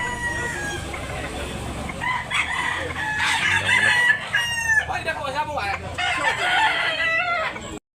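Roosters and chickens at a fowl market in Tabunok, Talisay, Cebu, crowing and clucking loudly and close, several birds overlapping throughout with background voices.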